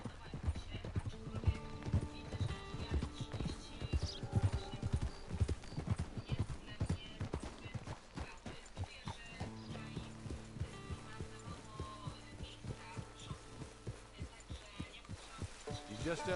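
Horse hooves in the video game Red Dead Redemption 2, a steady clip-clop rhythm along with tack and mechanical clinks, heard against game music and sparse voices.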